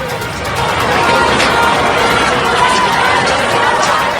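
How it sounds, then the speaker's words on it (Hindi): A huge crowd of anti-government protesters fills Iranian streets, a dense continuous roar of massed voices and shouting, loud and sustained without pause, with no single voice standing out. "सरकार के खिलाफ जोरदार नारेबाजी हो रही है"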